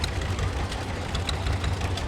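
Tractors idling in a fall fair parade: a steady, low, rumbling engine drone with faint knocking pulses, moderately close and continuous with no talk.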